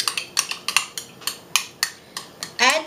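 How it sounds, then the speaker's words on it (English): A spoon clinks repeatedly against a bowl while a taco pie mixture is stirred into salsa, sharp evenly spaced taps ending in a brief scrape. "add that mixture right there and just stir it into the salsa"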